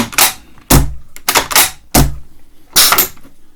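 A KC-02 gas-powered airsoft sniper rifle fires in bolt-action mode. Five sharp, loud, close cracks come at uneven intervals, with quiet gaps between them and some bolt-handling clatter.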